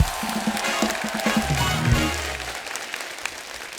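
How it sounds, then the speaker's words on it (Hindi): Studio audience applause on a TV comedy show, loud continuous clapping with a brief low musical sting and tonal flourish under it in the first two seconds, the clapping carrying on alone afterward. "जोरदार ताली हो जाए।"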